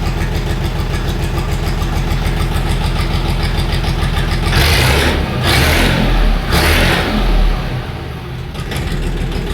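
Truck engine idling steadily at around 750 rpm and then being revved up, a loud, continuous close rumble that swells in a few surges midway before settling back, with no talk.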